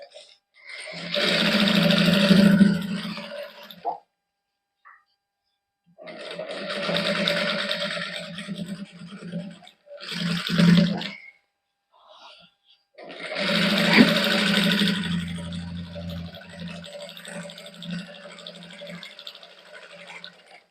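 A sewing machine stitches the sleeve of a shirt in a tailoring boutique, running in four separate bursts of steady, close whirring with short pauses between them.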